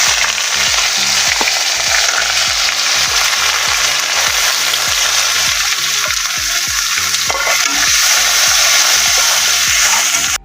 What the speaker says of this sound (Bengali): এখন আমি এর মধ্যে দিয়ে দিলাম পেঁয়াজ কুচি।